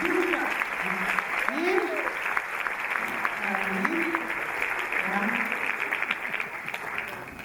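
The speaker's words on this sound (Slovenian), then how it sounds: "dajmo en aplavz" Applause for a dance group at a Studio Korak dance school performance fills the room as steady, dense clapping, with voices talking over it throughout.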